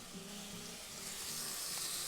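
Tomato juice squeezed by hand into a pan of mushrooms and stir-fried for a tomato mapo tofu gives a steady, moderate sizzle and hiss that runs unbroken throughout.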